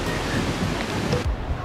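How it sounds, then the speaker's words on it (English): Strong wind at the seaside at Shanhaiguan, China, where the Great Wall meets the sea, roars across the microphone in a continuous rough rush, much like surf, then briefly drops off. "It's so windy."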